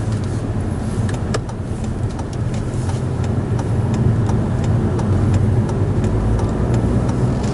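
A 2022 Toyota Camry under hard acceleration on the road, its engine a steady, full drone that holds throughout, with faint ticking on top.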